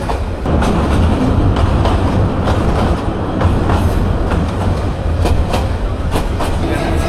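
Nazirhat local passenger train near Chattogram Cantonment station, running on rails with a steady loud rumble and rhythmic clickety-clack of wheels over joints throughout, no voices.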